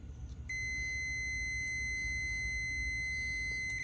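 A GE front-loading washing machine's steady, high-pitched electronic beep starts after a brief pause and holds continuously without breaking, over a low background hum.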